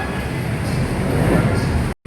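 Light rail train rumbling through Pasay Station on Manila's LRT line, a steady loud low roar of rolling wagons that cuts off abruptly at the end, with no talk over it.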